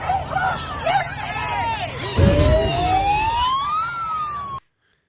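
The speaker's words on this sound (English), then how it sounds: "She accidentally hit the siren button." A bullhorn loudspeaker's siren button is hit by accident at a crowded protest, letting out a loud rising electronic wail that sweeps upward and holds over crowd babble, then cuts off abruptly.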